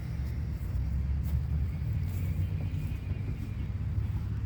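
Small gasoline engine on a log splitter running at full throttle, a steady low rumbling drone, close and continuous with no speech.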